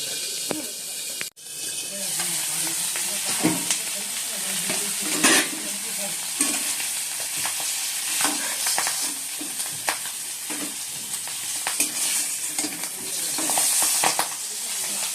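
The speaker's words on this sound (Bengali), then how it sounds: "বেশি তেল দিলে না বেশি ফুটে, এখানে অল্প তেলেই ভাজবো।" Fish frying in a small amount of oil in a home kitchen, a steady bright sizzle and crackle running throughout, with occasional scrapes and taps of a utensil stirring, close and fairly loud.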